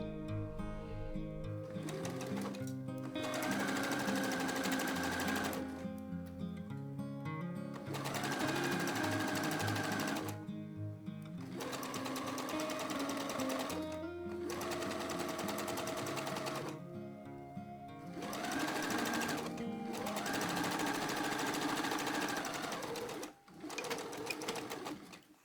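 A home sewing machine runs in several bursts, stitching a row of basting stitches along the edges of a drawstring dress, its motor buzzing loud and close with short pauses between runs.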